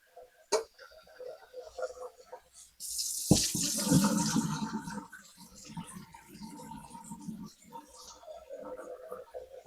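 Rice being rinsed in a pot, with water poured and swirled in a loud splashing burst midway, surrounded by quieter drips, clinks and handling noises at a moderate distance.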